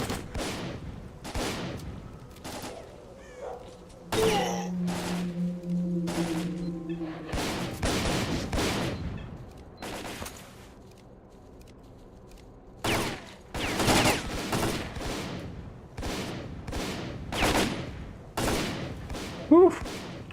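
Rifle gunfire in the video game S.T.A.L.K.E.R. Call of Pripyat: a string of sharp, loud single shots spaced unevenly across the stretch, with a sustained mechanical tone in the middle and someone talking between bursts.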